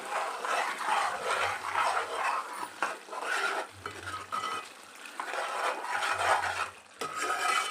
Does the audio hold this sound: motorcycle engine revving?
no